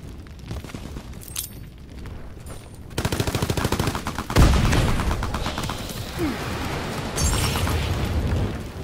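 Heavy gunfire and explosions in the video game Call of Duty: WWII, rapid machine-gun bursts and loud blasts overlapping in a dense, continuous barrage.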